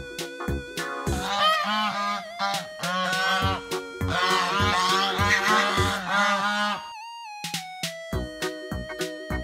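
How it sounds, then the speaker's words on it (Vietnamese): A goose honks loudly at close range in a rapid run of harsh, repeated calls, then a few spaced single honks, with no other sound. "Đây là tiếng con ngỗng kêu."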